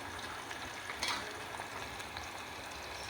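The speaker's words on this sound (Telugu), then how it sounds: "కరివేపాకు, పచ్చిమిర్చి, ఉల్లిపాయ ముక్కల్ని ఆయిల్లో వేసేసి" Curry leaves, green chillies and onion pieces frying in hot oil for a gongura chana dal curry, giving a steady, soft sizzle with a brief louder crackle near the start, no voices.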